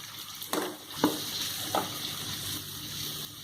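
Ground whole spices and mushy tomatoes sizzling in a wok, with a steady frying hiss broken by three scraping stirs, close and clear.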